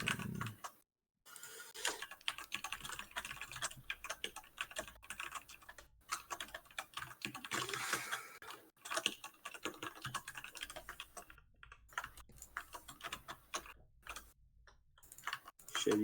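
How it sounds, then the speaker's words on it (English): Keys clatter on a computer keyboard in rapid, irregular bursts with short pauses, fairly quiet and close. "you probably hear me typing, don't you?"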